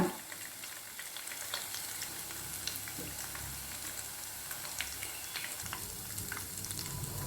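Cheese potato nuggets deep-fry in hot oil, producing a steady, dense crackling sizzle with small pops throughout.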